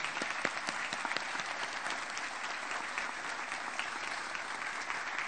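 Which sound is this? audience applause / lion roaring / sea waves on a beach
audience applause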